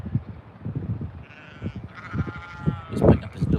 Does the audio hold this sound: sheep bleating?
yes